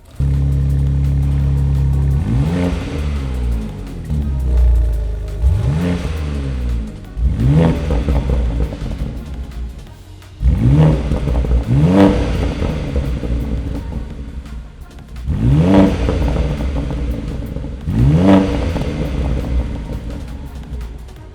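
A BMW M3 Touring fitted with a Scorpion exhaust is revved hard again and again, about six loud blips that climb and fall back to a deep idle between each, heard up close with no talk.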